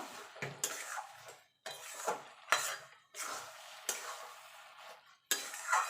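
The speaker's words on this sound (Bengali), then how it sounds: "তারপর ঘিটা দিয়ে ভালো করে মিশিয়ে নেব" A spoon scrapes and clinks around a pan of carrot halwa as ghee is stirred in, giving repeated bursts of metallic scraping with short pauses between strokes, close and moderately loud, no talking.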